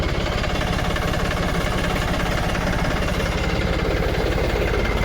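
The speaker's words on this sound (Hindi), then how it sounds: "तो फाइनली मैं करता हूँ ट्रैक्टर को स्टार्ट।" A tractor engine idles steadily just after being started, with a loud, even, rapid chugging and a continuous mechanical rumble throughout and no voices.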